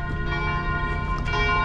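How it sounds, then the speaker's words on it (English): Church bells ring steadily in the old town of Kotor, Montenegro, a dense, loud wash of overlapping metallic tones filling the air without pause. "The bells are really good at the start"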